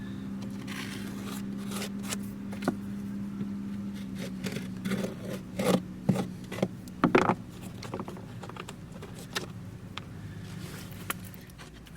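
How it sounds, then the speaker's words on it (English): A tool pries up a bedded deck fitting on a teak deck, with scattered close scraping, clicks and creaks over a low steady hum, growing busier in the middle and easing off toward the end. "All I'm doing is just trying to get something underneath to pry it up a little bit."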